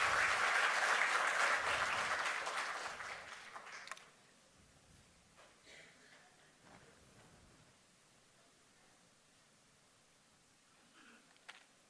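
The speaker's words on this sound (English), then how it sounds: "So if we could get a round of applause." Conference audience gives a round of applause for the organizers, a loud burst of clapping that fades out after about four seconds, leaving quiet room noise with a few stray sounds.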